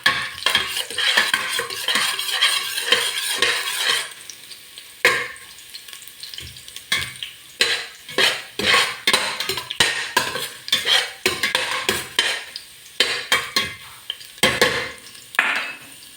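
Chopped ginger sautéing in oil in a pan for chicken tinola, steady sizzling with repeated scraping and stirring strokes of a utensil against the pan, no voices.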